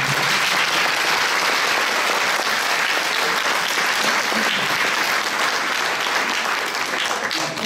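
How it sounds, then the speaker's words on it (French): Loud, sustained applause from a concert audience, thick and continuous clapping of many hands filling the hall without pause. "Je me permets de vous demander de bien vouloir applaudir les personnes."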